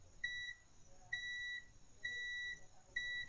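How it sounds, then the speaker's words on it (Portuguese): A multimeter set to continuity mode beeps four times in a steady rhythm, each a clear sustained electronic tone about half a second long with short gaps, close and fairly quiet, no talking. "Deixa eu botar na escala de BIP, que nós ouvimos o BIP."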